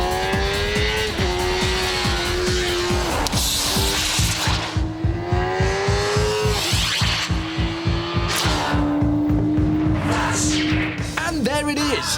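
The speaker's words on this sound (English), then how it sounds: "There it is, at 190 miles an hour-ish, I win by the smallest of margins." A race car speeding flat out at around 190 mph, a loud sustained engine drone with shifting pitch and a steady rapid pulsing throb, continuous throughout and close.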